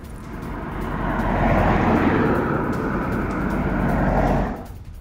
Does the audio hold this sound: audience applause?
no